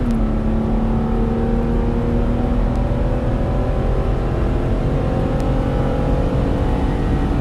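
A 2014 Mazda CX-9 accelerates hard from inside the cabin, its engine note climbing steadily in pitch as the revs rise through the gears, loud and continuous with road rumble underneath and no speech.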